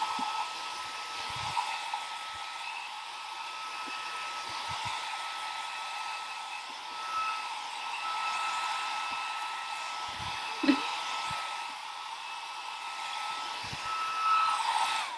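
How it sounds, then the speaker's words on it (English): A small hair dryer blows steadily and continuously, a loud airy whir with a faint whine, drying a stencil with only brief small knocks and handling noises over it. "your little hair dryer and give that a good little drying."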